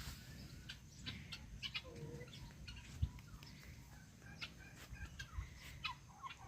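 Guinea fowl and turkeys raised together on a poultry yard, calling with repeated short clucks and gobbling bursts at moderate distance, irregular and fairly faint.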